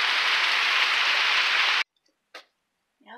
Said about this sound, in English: It's a nasty, rainy day today.